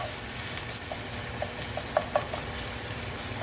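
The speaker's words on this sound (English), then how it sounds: "you'll notice it's sizzling, so I'm going to give this a stir" Garlic sizzles in a pan, a continuous hiss with light scraping and a few soft clicks of stirring.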